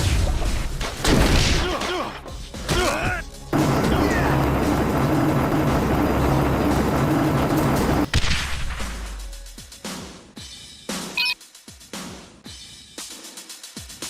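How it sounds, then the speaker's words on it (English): Helicopter gunfire strafing a ship's deck in the Marvel Ultimate Alliance video game, with loud bursts of rapid shots and crashing impacts, then a sustained roaring barrage that gives way to scattered booms and hits. "a helicopter keeps strafing the deck"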